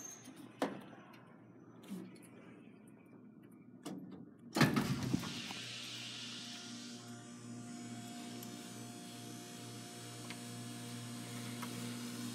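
An older Dover Impulse elevator door opens with a sharp mechanical clunk, then a steady motor hum and whir as the door slides, preceded by a few faint clicks.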